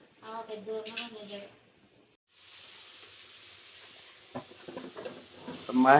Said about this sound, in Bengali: এই যে পেঁয়াজ ভুনা করে নিচ্ছে